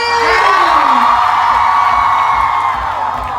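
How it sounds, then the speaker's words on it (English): A loud crowd at a mock wedding on stage cheers, whoops and shouts for the bride and groom, a dense sustained roar of voices close by. "can I get a giant round of applause for my bride and groom, everybody?"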